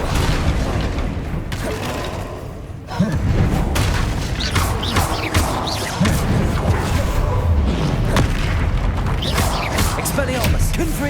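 Repeated booming blasts from Confringo spells in Hogwarts Legacy, loud explosive thumps and crashes in quick succession amid combat clatter, with shouted voices between them.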